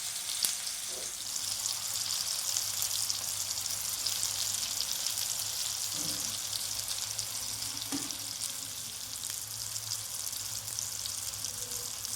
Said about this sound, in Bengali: এই যে দেখো আমি এবার একটা একটা করে কড়াই ছাড়বো